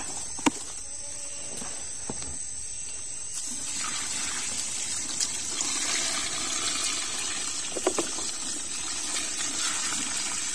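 Vinegar acid poured into liquid rubber latex, giving a steady pouring and splashing wash that runs continuously, with a few sharp knocks of a container.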